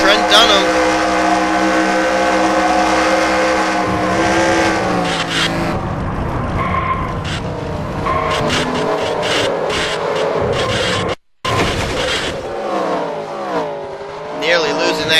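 Onboard race car engine sounds from a racing video game at Rockingham, loud sustained engine whine with shifting pitch and sharp gear changes, briefly cutting out, under an excited commentator's voice.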